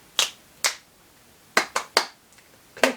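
Finger snaps imitating lobster claw clicks, six sharp, crisp snaps in an uneven rhythm, close and clear against a quiet background.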